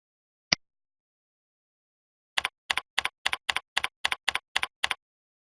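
Keystrokes on a computer keyboard: one isolated tap, a pause, then about a dozen quick, evenly spaced clicks in a steady run, close and clear against silence.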